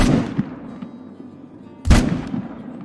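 Two loud gunshot blasts from a 45-70 rifle in a hunting video game, the first sharp report at the start and a second at about two seconds, each trailing into a rolling echo with no talk.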